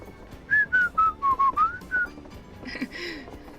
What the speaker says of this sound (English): I'm about to start whistling.